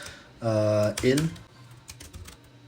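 Keys on a computer keyboard clatter faintly in quick taps while Kotlin code is typed. A voice speaks over the start of the typing.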